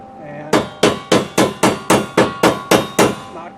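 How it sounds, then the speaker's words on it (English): Hammer chipping slag off a fresh weld on metal, about ten sharp ringing metallic strikes in a steady quick rhythm, loud and close with no talking. "knock the slag off."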